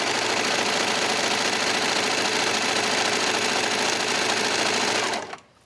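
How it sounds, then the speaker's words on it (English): A home sewing machine runs steadily, stitching a rolled hem on fabric for a tree pillow, its continuous buzzing whir holding even for about five seconds before stopping abruptly. "let's go back to the sewing machine"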